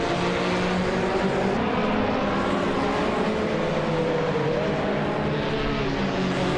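KTM X-Bow GT4 and other race cars roaring on track, a dense continuous engine drone with shifting pitch and one car passing by, loud and steady with no talking.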